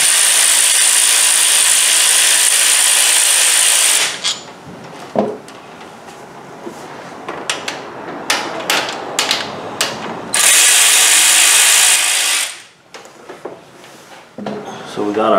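Two long bursts of a rapid ratchet wrench undoing head bolts on a 2007 Range Rover 4.2 supercharged engine during a head gasket job, loud and close, separated by a stretch of clicks, taps and tool handling.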